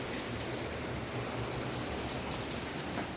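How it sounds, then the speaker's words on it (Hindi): Heavy rain falls steadily outdoors during cold, stormy weather, a dense, even wash of drops drumming on surfaces that fills the whole clip with no voices. "छम छम छम छम बारिश हो रही है"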